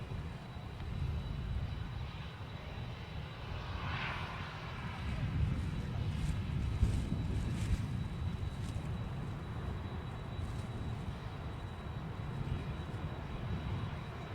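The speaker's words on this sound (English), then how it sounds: "A380's out as well, taxiing out." An Airbus A380 airliner taxiing at Manchester Airport gives a steady, distant low engine rumble with a faint high whine, continuous and fairly even throughout.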